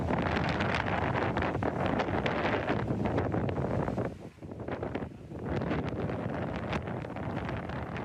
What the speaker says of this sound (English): There, just how strong the wind is.